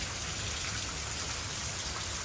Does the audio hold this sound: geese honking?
no